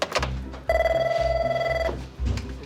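A telephone rings in a hotel, a steady electronic bell tone sounding once for over a second between low background rumble, fairly loud and close.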